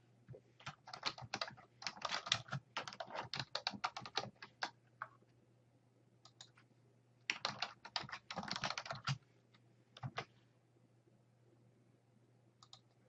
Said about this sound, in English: Let's type in a font here.